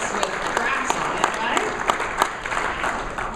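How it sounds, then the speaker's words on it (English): Audience at a civic State of the Community event applauds steadily, a dense wash of many hands clapping at fairly close range with a few sharper individual claps standing out. "Another round of applause to Scott Nelson"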